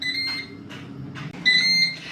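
A Ninja Dual air fryer sounds a short series of high electronic beeps while cooking a small turkey crown, the tones spaced unevenly with the last beep held a little longer, close and clear over a faint kitchen hum.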